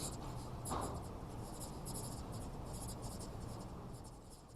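Marker or chalk scratching steadily across a board in a lecture room during a data analytics revision seminar, a continuous dry scraping over constant room noise with no one speaking.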